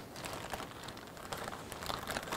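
IKEA scissors snip and crinkle through the packaging of an IKEA Tertial work lamp, a close, papery rustle with irregular crunchy cuts.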